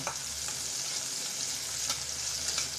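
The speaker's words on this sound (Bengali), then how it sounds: "চার পাঁচ কোয়া রসুন কয়েকটা কাঁচামরিচ ভালোভাবে ভেজে নেব" Garlic cloves and green chilies frying in hot oil, a continuous close hiss of sizzling with faint occasional stirring ticks.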